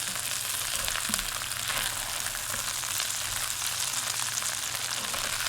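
Gnocchi frying in a skillet, a dense, even sizzle heard up close and continuing steadily throughout with faint scraping underneath.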